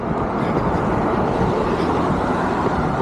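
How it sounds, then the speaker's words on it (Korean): Heavy weekday commuter car traffic along a road in Surrey, Vancouver, makes a loud, steady roar of passing vehicles close by, with no speech. "차 소리가 많이 나고"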